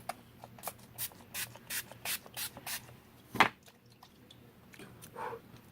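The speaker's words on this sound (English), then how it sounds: "I forgot to do setting spray." A quick series of short, hissy bursts of makeup setting spray close by, followed by a single thump and faint rustling.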